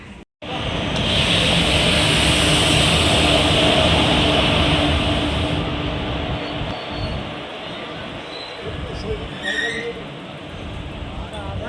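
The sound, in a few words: Bagh Express passenger train running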